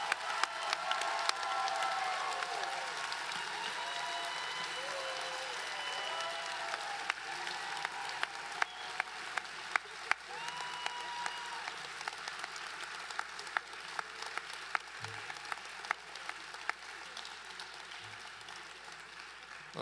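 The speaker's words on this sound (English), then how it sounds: "a round of applause for class of 2030" Crowd at a Penn Dental Medicine white coat ceremony applauding the class of 2030, sustained clapping with scattered cheers from a large hall audience, steady and moderately distant.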